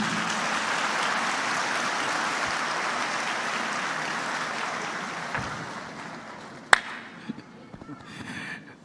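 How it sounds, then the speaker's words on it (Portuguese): A church congregation claps for pastor Raimundo, a sustained wash of applause that slowly thins and dies away, ending with a few scattered claps and a sharp knock, without speech. "Uma salva de palmas para o pastor Raimundo."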